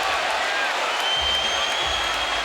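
A dense, steady roar from a boxing arena crowd cheering during a Crawford versus Gamboa fight, loud and continuous, with a commentator's voice running underneath.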